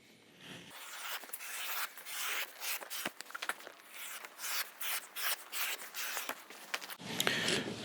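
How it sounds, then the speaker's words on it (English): A leather saddle breast collar tug strap is cut with a draw gauge set to 3/4 inch, heard as a series of close, soft scraping and rubbing strokes in quick bursts, with no talk. "And so we're just going to use our draw gauge here."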